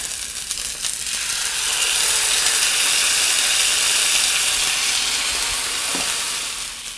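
Food frying in a skillet for peanut noodles gives a steady, loud sizzle that builds and holds for several seconds, with one brief tap near the end and no talking.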